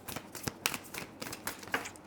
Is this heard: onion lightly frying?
no